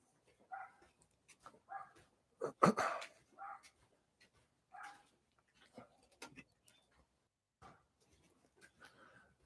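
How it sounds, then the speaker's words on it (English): A small dog yaps in a backyard, short high barks repeating in uneven bursts, quiet and somewhat distant in an otherwise hushed outdoor setting. "Yapping dog."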